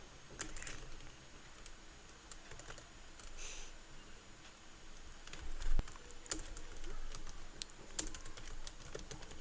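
Typing a prompt on a computer keyboard, a quiet run of soft, irregular key taps at close range with no talk.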